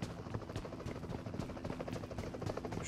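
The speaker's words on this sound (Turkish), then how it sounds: "Bak helikopter gitti." A helicopter in PUBG Mobile thrums with a steady, loud rotor chop throughout, a continuous rhythmic beating with no talk over it.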